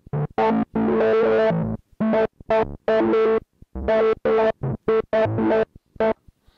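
Imaginando DRC synth effects triggered from a single key sputter in choppy rhythmic bursts, distorted and chorused with wobbling pitch, loud and close with short silent gaps between stabs.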